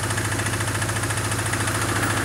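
A Honda CBR 450 SR motorcycle engine idles steadily at a raised speed of about 1500 rpm, a close, even, throbbing pulse with no talking.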